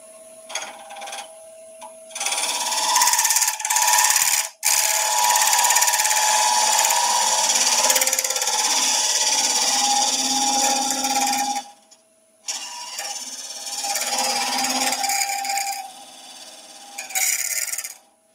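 A wood lathe spins a wooden salt or pepper grinder while a tool makes a side cut, giving bursts of loud scraping and whirring that stop briefly between passes, with no speech.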